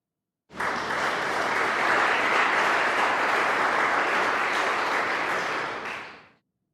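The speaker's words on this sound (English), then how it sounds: "So this is a recital crowd, right?" Recital crowd applause as a stock sound effect, a dense, even wash of clapping that starts abruptly, holds steady at full strength and then fades away.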